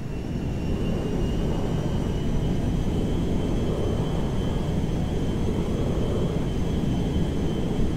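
A cargo jet flies in GTA 5, giving a steady broadband roar like a cabin interior that holds at an even loudness throughout with a faint high whine on top.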